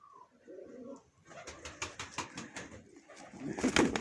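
Baku pigeons in a loft with newly hatched young give soft, close cooing, then a run of rhythmic rustles and light wing flutters that builds louder toward the end.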